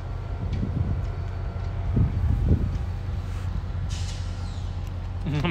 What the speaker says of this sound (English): It's a train, yeah, look over there.